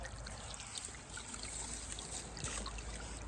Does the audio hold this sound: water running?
yes